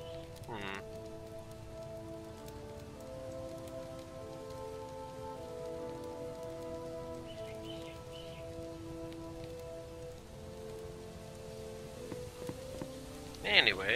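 Steady rain falls in the video game Starbound, a soft continuous patter heard alone over a low sustained musical drone, with a brief louder knock near the end.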